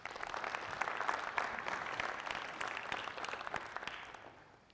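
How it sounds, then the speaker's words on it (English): A crowd at a business event applauds the media team, loud dense clapping from many hands that holds steady for several seconds before thinning and fading at the end. "Clap it up for our media team real quick."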